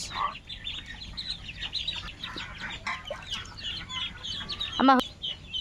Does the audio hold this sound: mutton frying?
no